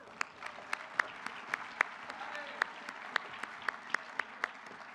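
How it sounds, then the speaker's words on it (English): A banquet audience at a national convention awards dinner gives Texas A&M a round of applause, sounding as a sparse, moderately distant patter with a handful of sharp, distinct claps over a soft background. "let's give Texas A&M a big round of applause"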